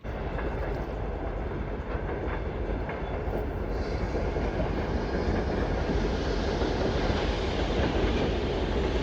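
A passenger train rumbles past steadily and loudly up close, a continuous roar of wheels and cars on the rails with no break.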